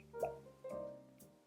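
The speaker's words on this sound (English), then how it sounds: "I'm going to do a little experiment and add some water just to see if" Water drips into a glass of Highland Park Twisted Tattoo Scotch single malt whisky as a few faint, close plinking drops, quiet and isolated, with no talking.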